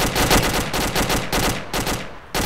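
A vehicle gunner's machine gun in a military video game fires loud, sustained bursts up close, separated by short pauses, with no talking heard.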